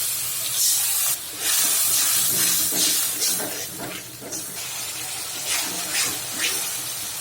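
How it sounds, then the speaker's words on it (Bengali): Water poured into a frying spice paste of onion, ginger-garlic paste, turmeric, chili, coriander and cumin, for a tilapia and sweet pumpkin curry, sends up a loud, close, hissing sizzle that surges in bursts and then settles into a steady steaming hiss. "মশলাটা কষাতে দিয়ে দিব পানি।"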